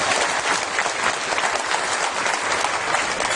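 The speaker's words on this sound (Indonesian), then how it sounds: "Ya, kita kasih aplaus sekolah." School audience applauding, loud and continuous clapping from a crowd gathered for a guest speaker in Turen, Malang, Indonesia.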